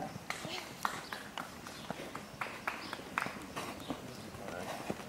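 Hooves of a filly foal by Casall at a breeding show, clip-clopping in an irregular trot on firm ground. Ring sounds surround it and a voice speaks over the hoofbeats.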